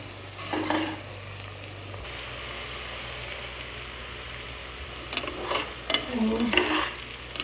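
Masala sautéing in coconut oil in a pan for a chicken dish, a continuous close sizzle with louder bursts of stirring and scraping near the end.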